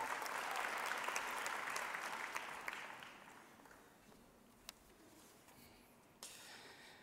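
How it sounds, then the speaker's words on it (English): Applause from an audience at a university autumn graduation ceremony, loud and dense at first, then thinning and fading over several seconds, with a few scattered late claps near the end. "Please give him a big round of applause."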